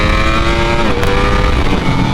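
Ducati Streetfighter V4 motorcycle engine revving hard during a downhill wheelie in first gear, a loud, close, steady high-pitched roar with a slight drop in pitch partway through.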